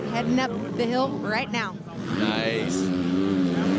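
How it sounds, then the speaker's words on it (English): A stock Honda 250F dirt bike engine climbing a hill at a hill climb event, a loud buzzing four-stroke revving and rising in pitch, with an announcer talking over it. "Just a good old stock dirt bike heading up the hill right now."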